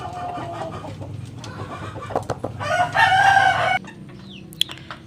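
Chickens cluck and squawk close by while being fed, with a rooster crowing loudly over the flock's busy chatter.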